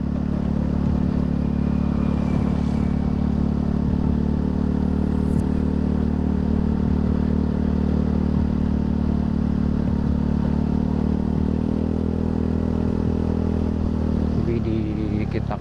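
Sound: motorcycle engine while riding

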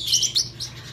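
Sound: baby parrotlet chirping

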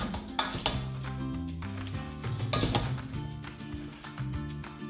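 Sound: stirring Danube vegetable salad in a bowl

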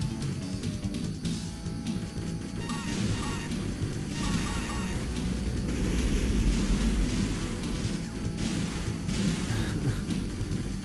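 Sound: thunderstorm in the After Burner II arcade video game

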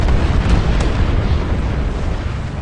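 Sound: grenade explosion in the video game PlanetSide 2

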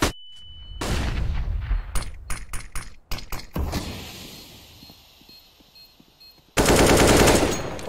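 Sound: gunshots in the video game CS:GO

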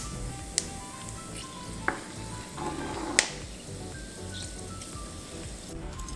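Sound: cumin seeds and whole spices crackling in hot mustard oil

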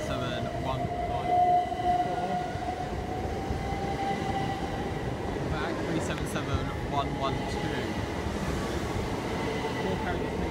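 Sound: Class 377 electric train at Haywards Heath station

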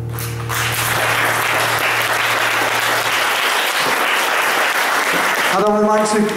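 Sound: audience applause

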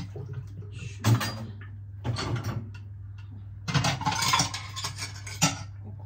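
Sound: spoons being rinsed under water

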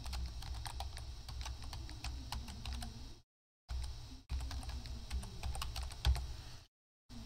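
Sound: typing on a computer keyboard

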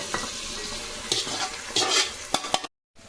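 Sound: fish mixture frying in pan

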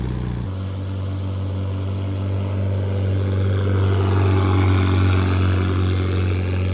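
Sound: mini jet boat running on water

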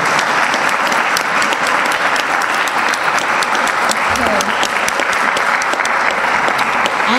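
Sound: audience applause at legislative luncheon

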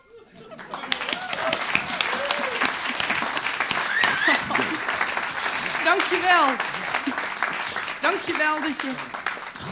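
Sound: audience applause

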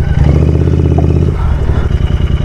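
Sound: Continental GT 650 motorcycle revving while stuck off-road

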